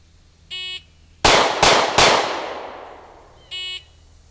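Three sharp Springfield Hellcat handgun shots fired at 7 yards, loud and close, in quick succession with ringing decay, between two short electronic timer beeps.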